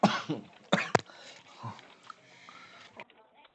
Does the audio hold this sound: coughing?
yes